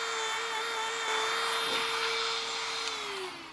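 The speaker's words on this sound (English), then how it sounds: "Just gonna hold my Dremel like this, and then I'm just gonna follow that radius around." A Dremel rotary tool bevels a curved radius on a DIY knife rework, giving a steady high-pitched whine that is close and loud and alone, dipping slightly in pitch as it winds down at the end.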